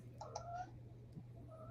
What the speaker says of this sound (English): I can hear the cat there.